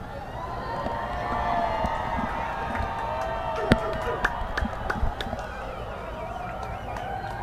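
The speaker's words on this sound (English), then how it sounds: "As you can hear, the people at the square are cheering" Crowd gathered in a town square in East Texas cheering in the seconds before total solar eclipse totality, a distant, sustained mass of voices with scattered whoops and sharp peaks, under nearby talk.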